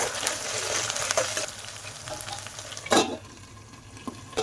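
Ginger garlic paste sizzles in a pan for amaranth-leaf onion chilli fry, a steady crackling fry broken by close, intermittent scraping stirs.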